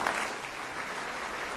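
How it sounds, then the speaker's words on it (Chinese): A crowd at a live show breaks into sustained applause to welcome a performer, a dense, steady wash of clapping lasting the whole moment. "掌声有请。"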